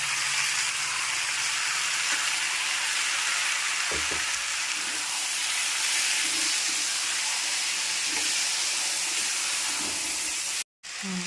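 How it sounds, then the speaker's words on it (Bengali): Spices are stir-fried with vegetables in a pan, a steady, close sizzle and hiss of oil with occasional soft knocks and scrapes of a spatula throughout. "দিয়ে মশলাগুলোকে ভালো করে মিশিয়ে কষিয়ে নেব"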